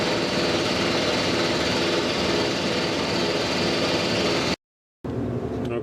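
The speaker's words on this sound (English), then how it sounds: "It's always nice when the compressor interrupts, but so be it." An air compressor drones steadily and loudly inside a small engine shop, a dense continuous mechanical roar that cuts out abruptly near the end, then resumes briefly.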